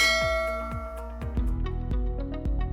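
A notification bell rings in a quick series of bright, ringing dings, about five strikes spaced roughly half a second apart. Each strike's tone lingers, and no one talks over it.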